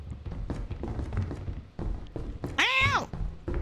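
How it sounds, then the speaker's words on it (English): A cat in the video game Lethal Company lets out a single loud, wavering meow near the end. It comes over a busy background of thumps and footstep-like knocks. "I heard a cat."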